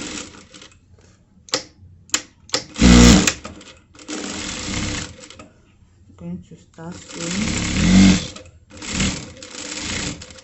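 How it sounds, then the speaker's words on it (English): A domestic sewing machine stitching a shift dress runs in short bursts of rapid mechanical whirring, separated by pauses, close and fairly loud, with a voice speaking between runs. "So I'm going to start sewing."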